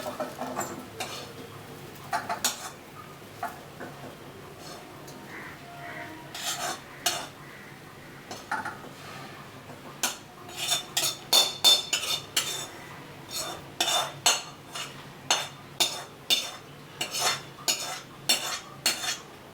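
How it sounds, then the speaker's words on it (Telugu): A metal spoon scrapes and clinks repeatedly against a plate and pan while hot banana fry curry is served, sparse at first, then quick rhythmic clatters close by with no talk. "ఇప్పుడు ఇదే ప్లేట్లోనే నేను సర్వ్ చేసుకుంటున్నాను"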